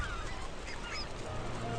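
Geese honk faintly in a lakeside wetland, a few brief calls buried under a steady broadband wash of outdoor noise and low rumble.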